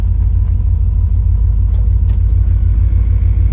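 A 1967 Chevrolet C10 pickup truck engine idles steadily with a low, constant rumble and a faint whir, running alone without any voices.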